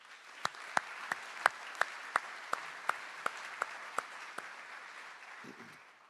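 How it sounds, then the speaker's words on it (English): Applause from the audience at the Golden Apple 2022 teacher award ceremony: a steady, diffuse wash of clapping across the hall, with sharp individual claps standing out near the microphone in an even rhythm before it fades out. "Let's give all of them a round of applause."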